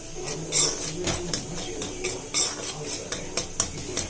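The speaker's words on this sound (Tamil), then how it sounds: "இப்போ இதை லேசாக வறுத்துக்கலாம்" Metal utensils scrape and clink against a pan in a steady stirring rhythm, with a light dry sizzle underneath, lightly dry-roasting for rava pongal.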